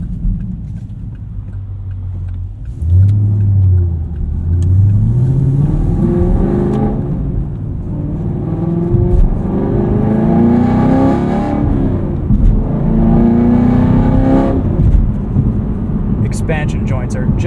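Modified 2022 Chevrolet Camaro SS 1LE with a V8 engine accelerates hard through the gears, a loud, deep exhaust roar rising in pitch with shift dips, heard from inside the car.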